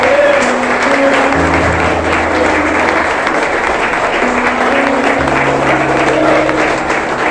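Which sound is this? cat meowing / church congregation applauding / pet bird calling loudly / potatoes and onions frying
church congregation applauding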